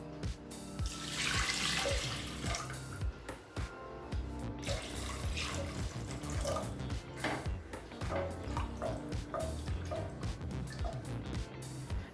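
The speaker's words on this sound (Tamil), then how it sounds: "இப்போ 4 கப் தண்ணி சேர்த்துக்கலாங்க." Four cups of water poured into a pressure cooker for foxtail millet payasam, a loud splashing, gurgling pour with irregular bursts that continues steadily for several seconds without talk.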